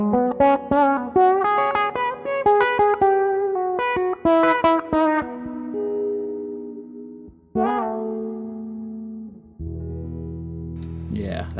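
Electric guitar played through a John Mayer Archetype amp plugin with an Antelope filter: quick picked notes and chords that give way to sustained, ringing tones and a final swelling chord, all up close.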